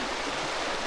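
The River Test rushing along in Hampshire countryside near Whitchurch and Freefolk, a close, steady broadband wash of flowing water with no voices.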